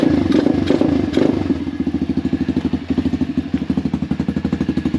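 A pit bike fitted with a new carburetor runs steadily after starting on the first kick, its small engine putting out a loud, rapid, even exhaust pulse with a rattly clatter up close.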